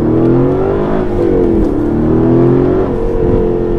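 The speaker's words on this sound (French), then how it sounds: "le son de la voiture est juste extraordinaire" An Aston Martin Vantage AMR with a manual gearbox revs hard and pulls away in first gear, its engine note climbing and swelling loud and close throughout, with no talk.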